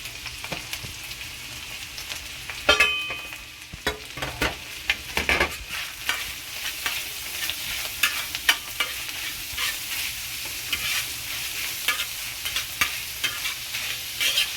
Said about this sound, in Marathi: साधारण आता हा कांदा पूर्णपणे भाजून झाला पाहिजे व्यवस्थित.